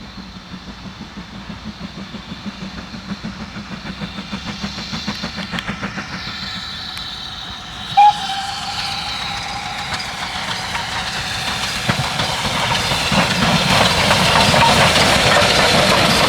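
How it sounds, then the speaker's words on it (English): British Railways Standard Class 4 tank locomotive 80151, a 1957 Brighton-built 2-6-4 mixed-traffic engine, works a train on the Bluebell Railway with a steady rumbling chuff that grows louder, broken by one brief sharp whistle blast midway. "1957 Brighton built Standard Class 4 Mixed Traffic 264 Tank Locomotive number 80151 heads for Sheffield Park with a 1542 from Kingscote"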